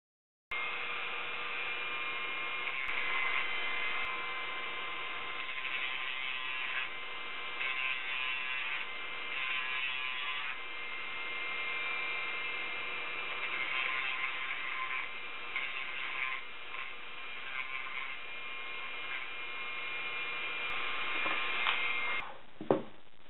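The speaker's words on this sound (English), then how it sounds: "we're going to use the old Dremel tool and see what happens here" A Dremel rotary tool grinds E-flite mCP X helicopter blades, a steady high-pitched whir held for about twenty seconds with small wavering changes in load as it cuts, ending with a brief clunk; no talk.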